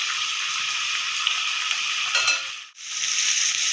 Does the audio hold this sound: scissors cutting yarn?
no